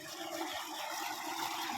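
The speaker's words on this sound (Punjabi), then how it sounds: "ਮੋਟਰ ਦੇਖ ਲਓ 50 ਤੇ ਕਿੰਨਾ ਪਾਣੀ ਕੱਢ ਰਹੀ ਹੈ" A 10HP solar water pump motor running at 50, pouring a heavy, steady stream of water from a 120-foot bore at full pressure, a continuous loud rushing gush with no talk over it.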